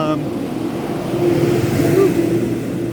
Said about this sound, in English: it's really noisy with all the cars